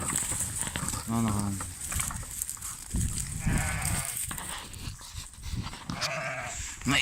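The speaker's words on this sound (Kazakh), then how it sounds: "Мына қойлар анталап тұр, бұлар жем сұрап тұрған қойлар." A flock of sheep crowds for feed, bleating repeatedly at close range in wavering calls over shuffling and rustling, with several bleats overlapping.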